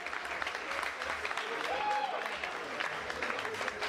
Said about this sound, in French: Applaudissez pour le canal d'or.